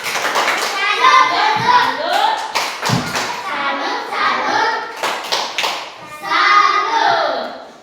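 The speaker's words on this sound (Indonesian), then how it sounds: "Tepuk tangan dulu untuk Tian dan Icin." Children in a classroom clap together in a rhythmic patterned applause, sharp hand claps in bursts mixed with kids' voices and chatter throughout.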